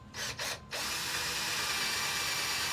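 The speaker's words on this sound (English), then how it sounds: "So I'm going to drill through it." Half-inch drill bit boring through a metal bearing retainer ring on a Jeep TJ Dana 44 axle, a steady grinding whine after two brief spin-ups, moderately close.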